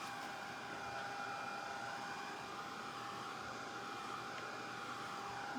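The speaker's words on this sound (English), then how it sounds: "I'm going to move this dryer to another outlet." Hair dryer blowing steadily while drying a decoupaged vintage Santa wall hanging, a continuous even whoosh with a faint whine, close and unbroken throughout with no talking.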